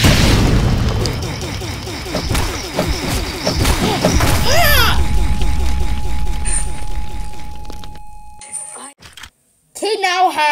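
A bomb explodes in a Roblox video game, a loud booming blast rising out of busy game noise and chatter, followed by crackling debris, a sharp drop to near silence and then more game sounds.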